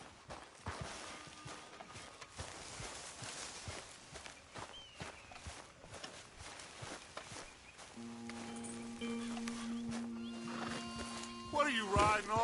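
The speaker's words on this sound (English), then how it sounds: "Will you get back on the horse?" Video game horse hooves thud and clop in a steady walking rhythm among rustling, with a horse snorting; music and voices rise toward the end.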